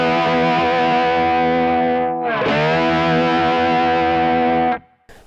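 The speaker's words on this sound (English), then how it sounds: "Now the good thing with a slide is, if you give it a little shake, as it were, you can kind of stay in pitch." Electric slide guitar in open E tuning sustains a thick, distorted chord with a slight wavering shake, dips in a quick slide partway through, then rings on before cutting off abruptly.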